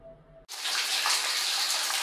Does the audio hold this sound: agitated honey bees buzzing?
no